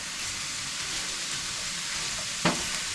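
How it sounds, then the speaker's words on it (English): Food sizzling in a frying pan during home cooking of a family spaghetti dinner, a constant hissing fry with a brief scrape of stirring near the end, close and alone. "Let me stir this up a little bit."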